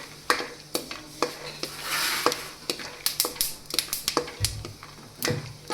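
Peanuts frying in hot oil in a kadai, a steady close sizzle broken by frequent sharp clicks and scrapes of stirring, with no one talking.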